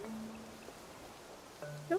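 Light rain in Animal Crossing: New Horizons makes a faint, even hiss, with soft musical game tones over it.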